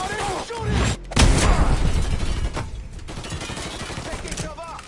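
Gunfire from a shootout in the video game Mafia 3, loud bursts of rapid shots with heavy thumps, mixed with shouting voices.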